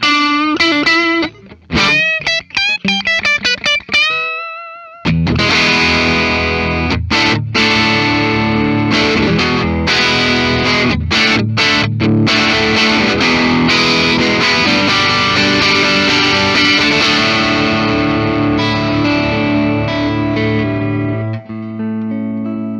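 Distorted electric guitar on the neck pickup of a Duesenberg Starplayer TV Phonic, playing chords and short riffs with a warm, full tone, loud and unaccompanied, ringing out with some reverb.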